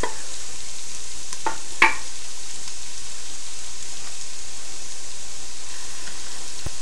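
Garlic fries with celery and onions in oil in a pan, a soft steady sizzle broken by a few sharp clinks of a utensil early on, with no talking.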